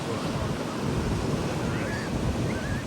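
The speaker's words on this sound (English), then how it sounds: "Other than the wind howling." Strong wind roars across the microphone over crashing ocean surf on a New England beach churned up by Hurricane Erin, a loud, continuous, close wash of noise.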